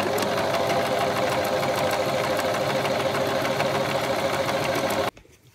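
A sewing machine fitted with a quarter-inch quilting presser foot and guide stitches fabric in a steady, rapid run for about five seconds, loud and close, then stops abruptly into near silence.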